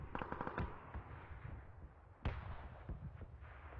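Rapid bursts of video-game gunfire crackle faintly at a distance, with a sharper single shot midway, distant pops continuing.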